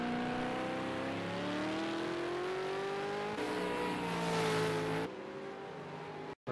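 V8 Supercar engines on the final lap of a racing video game at Circuit of the Americas, a loud sustained engine drone rising steadily in pitch as the car accelerates, then cutting off abruptly near the end.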